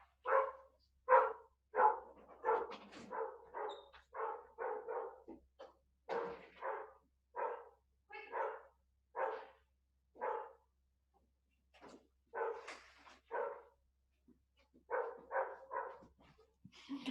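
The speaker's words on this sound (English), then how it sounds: "It's my dog barking at the delivery man" A household dog barks repeatedly at a delivery man, bursts of sharp barks in rapid runs with short pauses, heard somewhat distant and muffled indoors.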